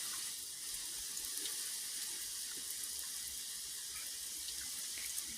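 Water is poured steadily over farm animals to bathe them on a summer morning. It makes a continuous, hissing splash with no pauses, close and fairly loud, and no one speaks.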